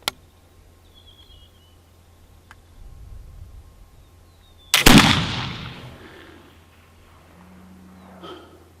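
A single loud, sharp report from a Hawken muzzleloader rifle loaded with 50 grains of 3F black powder, fired outdoors with a double set hair trigger, followed by a long rolling echo that fades over several seconds.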